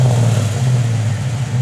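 A 1974 Plymouth Barracuda with a manual clutch, its engine holding a steady, loud, deep idle-to-rev rumble throughout the short stretch, with no talk over it.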